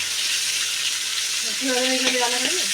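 Pangas fish pieces frying in oil make a continuous close sizzle, and a short voiced sound rises briefly over it near the end.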